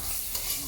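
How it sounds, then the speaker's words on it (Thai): Holy basil and chili stir-frying in a wok at a Thai street food stall, a brief burst of steady hiss and scraping stir under loud, dense broadband noise. "เอากะเพรากับพริกก็คือผัดใส่ด้วยกันไปเลย ลงทั้งหมดเลยได้"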